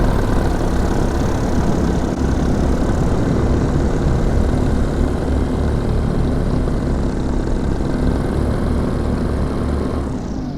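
Steady drone of a paramotor's engine and propeller in flight just before landing, loud and unbroken with a constant buzzing pitch that fades slightly at the end.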